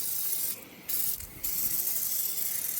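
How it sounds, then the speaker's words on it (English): An aerosol spray can hisses onto the brake booster in the engine bay of an old Ford truck, two short steady bursts of under a second each over a constant background hiss. "I might as well spray some of that stuff too."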